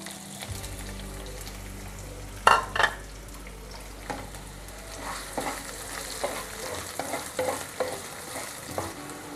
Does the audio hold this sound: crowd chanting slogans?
no